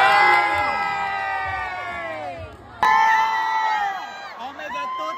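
Crowd of children and adults cheering, shouting and whooping at a Teachers Day celebration, loud and sustained with overlapping voices, a brief dip, then a fresh surge of cheers.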